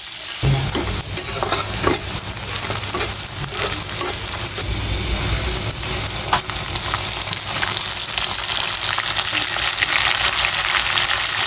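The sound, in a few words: potatoes frying in oil with food colour and salt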